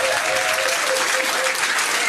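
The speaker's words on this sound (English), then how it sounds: "Give them a round of applause for trying anyway." Pub quiz audience at The Granta clapping in a steady, dense burst of applause that fills the room, loud and continuous throughout with no voices rising above it.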